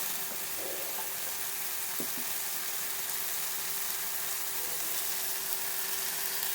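Two tomatoes with salt sautéing in a pan for a stingray garlic-pepper curry, a steady quiet sizzle with a couple of faint clicks from a utensil, no talking, a low hum running beneath.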